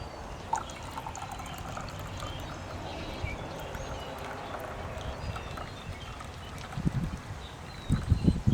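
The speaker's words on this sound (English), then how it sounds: "Pour it in my cup and let it cool off." Coffee trickles and pours into a cup with a faint gurgle, ending in a few louder splashes and clinks near the end.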